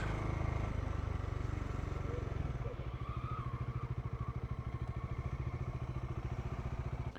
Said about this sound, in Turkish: Çat çat ses yapıyor.